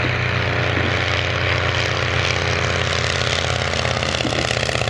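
A Martlet vintage propeller aircraft passes at an air display, its loud, steady engine drone holding throughout with no voices.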